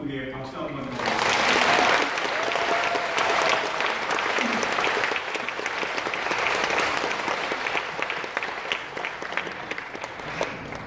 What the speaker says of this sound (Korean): 우리 헌신 예배 드린 소년부 위에 박수 한번 주세요.